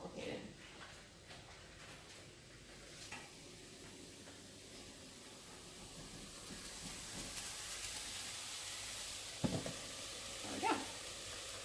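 Gluten-free crepe wraps warm in a pan alongside asparagus, a soft steady sizzle and frying hiss that builds gradually, with a few clatters of a utensil against the pan near the end.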